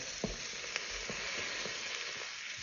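Beef short ribs sear in a Ninja Foodi, giving a dense, steady sizzle and hiss close by, punctuated by a few light knocks as the meat is moved around.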